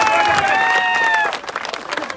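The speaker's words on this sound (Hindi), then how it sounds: "एक बार जोरदार तालियों से अभिनंदन करें।" A crowd at a political event in Khetri claps after a voice over loudspeakers, with a brief spread of applause that thins into scattered claps.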